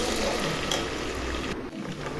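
Peanuts sautéing in hot oil in a pan for soya chunks khichadi, giving a steady close sizzle and crackle that runs throughout without a break and with no voices.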